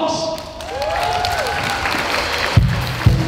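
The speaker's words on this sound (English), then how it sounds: "let's give a round of applause to Pops" Audience applause at a live music event, a steady spread of clapping over crowd noise, with a few louder claps and thumps near the end and a brief tonal whistle-like sweep early on.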